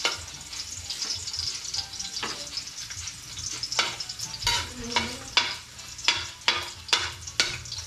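Garlic fries and sizzles in a pan for chicken adobo with eggplant, with frequent sharp scraping strokes of a spoon stirring it, close and fairly loud, no talking.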